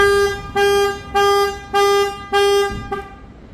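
A Ford Puma's factory car alarm sounds on locking in a series of loud, harmonic tones, five sustained blasts with short gaps and a brief sixth at the end, nearby.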